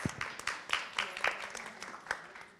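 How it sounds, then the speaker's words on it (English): A brief burst of scattered clapping from a small audience at a talk, a few sharp claps standing out before it thins out. "Big round of applause."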